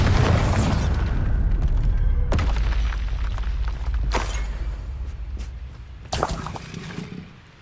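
A Bombarda spell in Hogwarts Legacy bursts with a loud, deep boom, followed by rumbling debris and a few sharp cracks that fade out over several seconds.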